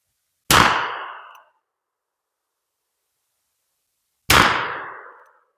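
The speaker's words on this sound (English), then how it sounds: "let's do a little shooting. See where these things are hitting at." Two separate revolver shots fired with .44 Russian cartridges, each a sharp loud crack followed by a ringing decay from a struck steel target, spaced about four seconds apart in an otherwise quiet outdoor setting.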